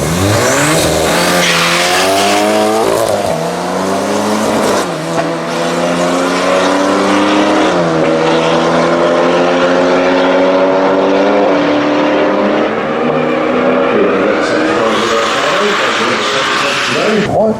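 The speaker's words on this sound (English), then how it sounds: "Derek with the TVR, and John with the later Golf." A TVR and a later VW Golf launch off the line at a UK street drag event, engines roaring loud and close with stepped gear changes climbing through about seventeen seconds, the noise fading slightly toward the end.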